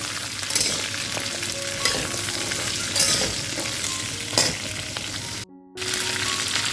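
Mixed vegetables with pointed gourd being stirred in a pan for a Bengali labra, a spatula scraping and turning the pieces through a steady sizzle, with a brief silent gap near the end.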